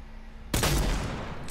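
Loud gunfire erupts suddenly in a Fortnite-style building shooter, a dense burst of close shots after a brief quiet moment, then trails off into a ringing, noisy tail.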